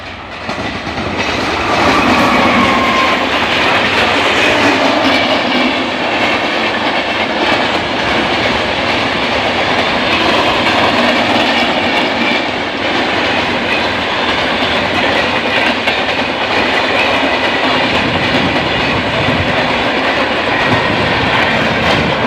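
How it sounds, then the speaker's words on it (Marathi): A Humsafar Express train passes close by on the rails, a loud, unbroken roar of wheels with rhythmic clickety-clack that lasts throughout, with no speech. "हमसफर हमसफर हमसफर एक्सप्रेस"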